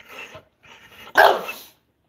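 Dogs, a Golden Doodle and a Blue Heeler, bark close by: a couple of lighter yips followed by one louder, fuller bark, with no talking.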